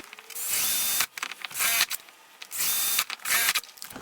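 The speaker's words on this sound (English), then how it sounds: "so we'll drill our hole" A power drill whines loudly in several bursts, spinning up and boring for about half a second to a second each, with brief pauses between, drilling holes while fitting a boat's kneeling thwart.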